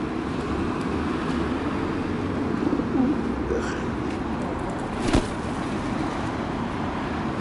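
Pigeons coo softly and intermittently beneath a steady, broad wash of outdoor background noise, the calls faint and partly masked throughout.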